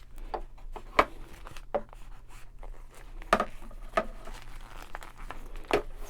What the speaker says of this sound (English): I'm just going to go ahead and use my curved scissors